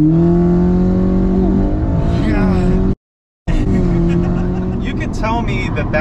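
A 2022 Audi S3 with an upgraded turbo launches hard, its engine note loud and close, rising steadily through the revs before a brief cut at the shift and then climbing again, with voices talking over it.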